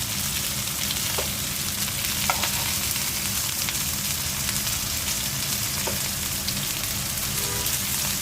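Hilsa fish fries in hot oil with a constant, dense sizzle and crackle, close and even throughout, with a few faint clinks and no talking.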